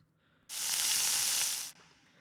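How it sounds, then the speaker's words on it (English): A loud, steady sizzle of frozen beef frying in a hot pan, hissing bright and constant for about a second before cutting off abruptly. "Frying frozen beef."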